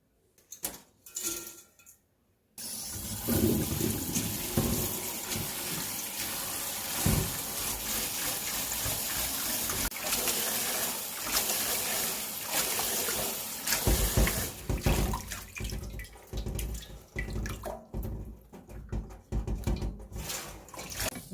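Tap water runs in a steady, loud splashing stream onto dried bracken fern set to soak in a kitchen, after a few brief knocks and clatters at the start.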